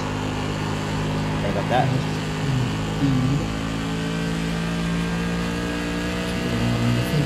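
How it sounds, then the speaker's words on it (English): Race car engines from a racing game at New Hampshire, a steady droning whine with pitch shifts as cars rev and pass, running continuously under a short spoken remark. "These are very nice cars. Car noises."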